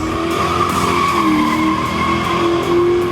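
A 1967 Ford Mustang with a 289 Windsor stroker of about 305 cubic inches, AFR aluminium heads and around 350 horsepower. Its tyres squeal loudly and continuously close by over a sustained engine roar.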